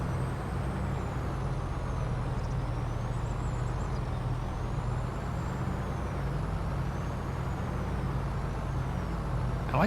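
A truck in Farming Simulator 25 rolls along with a steady, loud engine drone and road noise, with faint high whines drifting above it; no clear air-brake hiss stands out.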